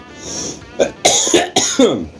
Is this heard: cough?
yes